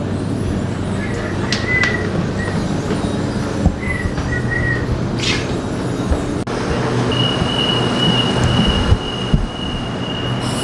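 Steady rumble of a Sydney commuter train rolling along rails toward Central Station, with intermittent high wheel squeals and a long thin screech near the end, continuous and close.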